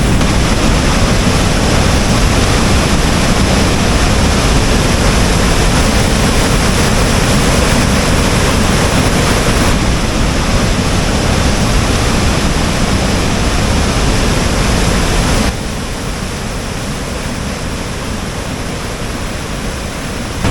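Mahilekhya Waterfalls in Tamil Nadu, fed by water from Mullaperiyar, roars as a dense, unbroken rush of falling water that drops slightly in level for the last few seconds.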